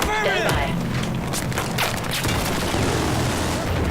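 Battlefield 4 combat fills the moment with booming shots and rattling gunfire, loud and steady, as someone talks excitedly over it.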